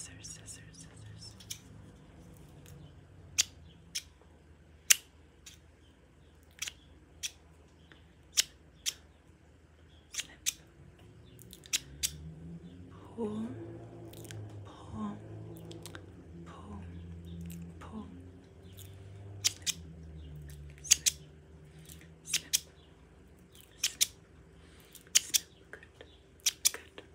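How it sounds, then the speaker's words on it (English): Scissors snipping up close in a quiet ASMR setting, sharp crisp clicks scattered irregularly across the stretch, with soft whispered talk in the middle. "Actually, I have scissors here."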